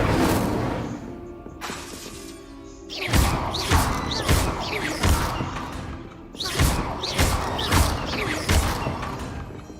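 Incendio fire spell cast repeatedly in Hogwarts Legacy, bursts of crackling, whooshing impacts with thumps and shattering tails, loud and close, arriving in several clusters across the stretch.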